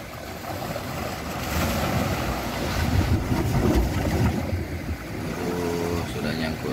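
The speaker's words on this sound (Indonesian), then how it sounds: "Kita nikmati ombak." Sea waves washing at a seaside park shore in Aceh at low tide, a steady broadband surge with heavy wind buffeting the microphone, and brief voices rising near the end.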